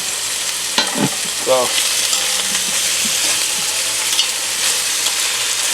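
Beef seasoned with garlic, crushed pepper and a little lard sears in a hot pan, giving a steady, close sizzle throughout, with a brief word spoken and a few stirring clinks.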